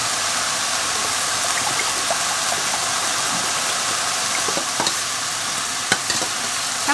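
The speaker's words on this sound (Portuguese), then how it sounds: "Mexe bem pra não ficar pelotas." Soy sauce, water and cornstarch stirred in a hot pan with meat for yakisoba, a steady loud sizzle with scraping stir strokes and occasional clicks of the utensil against the pan, no talk.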